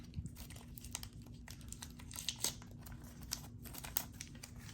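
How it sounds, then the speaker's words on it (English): Plastic wrapping comes off an S.H. Figuarts Vegeta action figure with quiet, close crinkles and small scattered crackling ticks in an irregular rhythm. "So I'm gonna take off this plastic so we can get a closer look"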